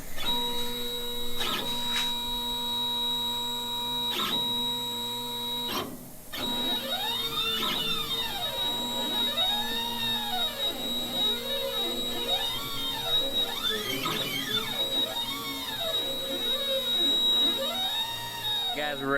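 Langmuir Systems CrossFire Pro CNC plasma table running a dry run, a steady mechanical hum with a high whine and repeating sweeping motor tones that rise and fall as the gantry moves, continuous and fairly close.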